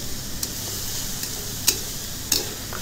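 A spoon stirs chopped cabbage in a pan after salt goes in, giving a few light scraping taps over a steady soft sizzle, with no one talking.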